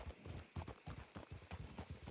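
Quiet, rhythmic clip-clop of horse hooves in a Wild West roleplay game, a steady walking gait at moderate distance, with no talk over it.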